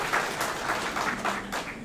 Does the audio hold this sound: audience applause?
yes